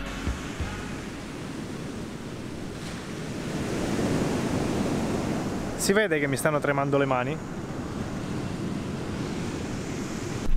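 Surf rolls in along the Namibian coast beside a 4x4 track, a steady roar of waves mixed with wind buffeting the microphone, while a person speaks briefly over it.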